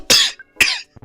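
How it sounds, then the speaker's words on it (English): Two sharp, loud coughs right into a microphone, close and harsh, separated by a short pause, with a faint trailing breath at the end. "I coughed in my microphone."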